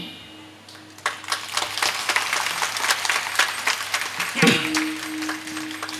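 Audience at a comic kirtan performance clapping steadily, a dense, lively stream of hand claps that builds after the first second and carries on throughout, with a sustained tone underneath.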